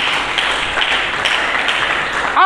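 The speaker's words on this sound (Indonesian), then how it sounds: "Berikan tepuk tangan bagi Yesus Kristus." A church congregation claps together in sustained, dense applause, steady and fairly loud for the whole stretch, with a brief swell at the very end.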